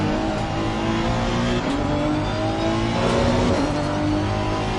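A race car in Assetto Corsa Competizione screams at high revs under hard throttle with rising and falling gear changes, a loud continuous engine roar with no talk.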